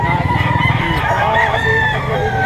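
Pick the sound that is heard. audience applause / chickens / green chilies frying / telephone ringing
chickens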